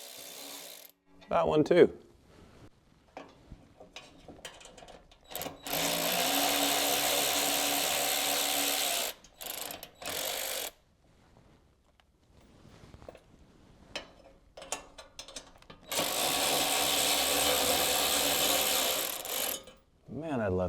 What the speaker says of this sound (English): at least with this ratchet, it's quick even though it's long.